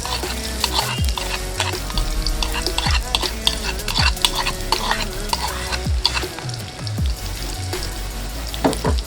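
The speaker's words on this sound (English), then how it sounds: "Right now we're gonna add the chopped up onion." Chopped onion fries loudly in a pan for Chittagong-style kala bhuna, a constant close sizzle overlaid with frequent clinks and scrapes of a utensil against the pan, steady throughout with no voices.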